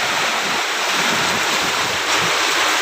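Floodwater pours and rushes into a bamboo nipa hut during a typhoon in the Philippines, a loud, steady broadband roar like heavy surf that fills the whole stretch without letup.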